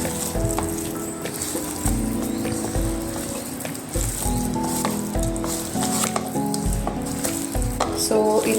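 Pepper chicken frying in a pan makes a loud, steady sizzle, broken by repeated scraping strokes as it is mixed, with no talk over it.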